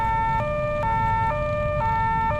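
Police siren in a farming video game, a loud two-tone wail switching between pitches at a steady rhythm over low engine rumble.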